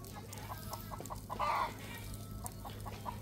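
A chicken clucks in a rural Soc Trang setting beside water, a few soft clucks and one louder squawk at moderate distance over low outdoor ambience.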